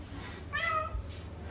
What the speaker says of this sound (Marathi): तर आता इथं मांजर पण आणली